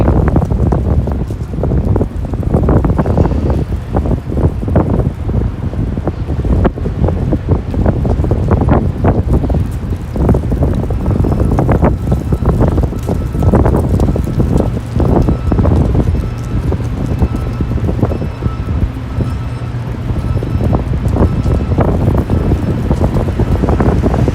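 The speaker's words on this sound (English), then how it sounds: "Windy, windy, windy." Strong wind roars and buffets the microphone in continuous heavy gusts, loud and close, on a walk in Harrisburg, Pennsylvania, with no talking throughout.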